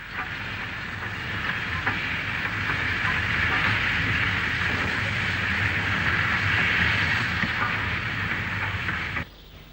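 A Grange class steam locomotive passes Oxley North Junction at Wolverhampton with a loud, steady rushing rumble and hiss that holds for several seconds before cutting off abruptly near the end.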